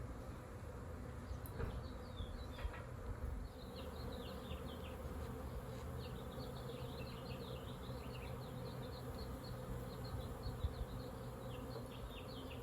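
A swarm of bees clusters in a tree outdoors, producing a steady, fairly soft droning hum that carries on without a break throughout.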